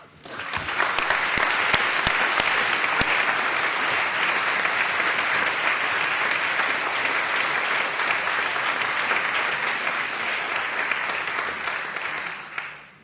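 Audience applause welcoming economist Jeffrey Sachs at a lecture hall talk, sustained steady clapping from a sizable crowd that starts abruptly, holds evenly for about twelve seconds and fades at the end, with no voices over it.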